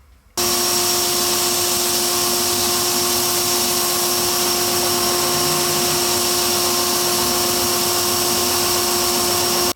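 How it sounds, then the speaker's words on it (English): A belt sander grinds the back of a resin piece flat. It starts abruptly and then runs as a loud, steady motor whine with a tonal hum for nearly ten seconds, and no one talks over it. "I'm going to take this over to the belt sander, and I'm going to sand this flat"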